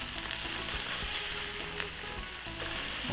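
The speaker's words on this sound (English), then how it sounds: "go ahead and flip our burgers now" Wagyu ground beef burger patties sizzle loudly and close on a hot cooking surface just after being flipped, a dense steady crackle with no talk.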